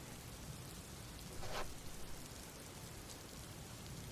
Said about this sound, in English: The rain still continues.